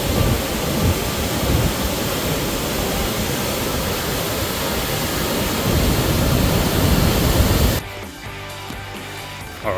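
A waterfall on Cape York roars as dense, broadband rushing that stays loud and unbroken for most of the stretch, then drops away abruptly near the end.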